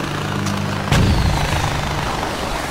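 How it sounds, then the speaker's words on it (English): Helicopter in the Far Cry 4 video game, a steady rotor drone that swells sharply partway through and keeps thrumming loudly to the end, with a low rumble underneath. "Oh, is there a chopper after us?"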